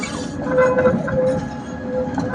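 A Prague tram passes along the Vltava embankment, a steady mid-distance rumble with a faint tonal wheel whine, heard outdoors in city street noise.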